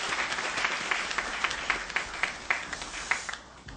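Audience applause for a visiting pastor at a Korean church fellowship gathering, a steady wash of many hands clapping at moderate level, with brief louder swells, continuing alone without talk.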